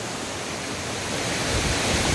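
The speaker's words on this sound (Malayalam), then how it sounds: "നിങ്ങൾക്ക് കാണാൻ പറ്റും എൻ്റെ പുറകിൽ കിട്ടിലം വെള്ളച്ചാട്ടം" A steady, loud roar of rushing water from a nearby waterfall at Siruvani, Palakkad, Kerala, heard from atop a high rock, continuous broadband noise that swells slightly toward the end.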